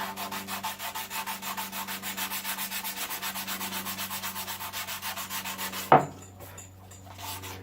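Steady rhythmic rasping of sandpaper rubbed back and forth over a wooden skateboard deck, close up, ending with a sharp knock and quieter rustling.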